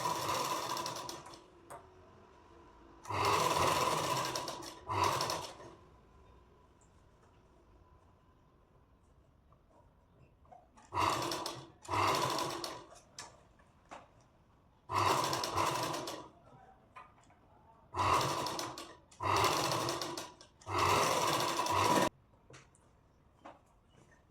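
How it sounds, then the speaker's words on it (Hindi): A sewing machine stitches the lining of a princess-cut deep-neck blouse, running in short separate bursts of whirring that stop and start repeatedly, close and loud with quiet gaps between. "देखो अब मैंने ऐसे सिलाई लगा दी,"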